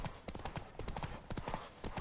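Horse hooves galloping during a horse race in The Witcher 3 video game, a fast continuous clip-clop rhythm of hoofbeats, close and steady throughout.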